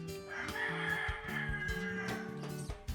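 A chicken on a rooftop in Jamaica calls out in repeated crowing, clucking bursts that carry clearly and fairly close over a busy background of street noise, with no voices.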